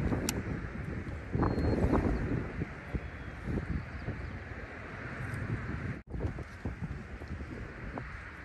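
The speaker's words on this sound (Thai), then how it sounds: "วันนี้นึกว่าจะลมไม่แรงนะแต่ว่าโหลมแรงมากเลยวันนี้" Strong seaside wind buffets the microphone in a continuous low roar with rushing gusts, swelling briefly near the start and cutting out for an instant partway through.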